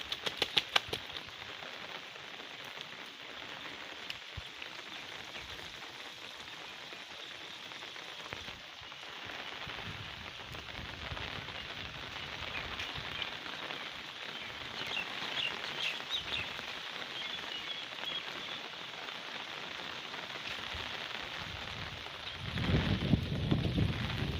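Steady rain patters densely on a surface for the whole stretch, with small drips and splashes scattered through the hiss.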